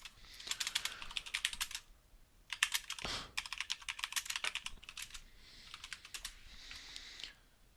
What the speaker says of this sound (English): I'm about to type this in manually on Google, what you just wrote.